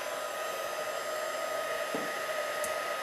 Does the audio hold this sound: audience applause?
no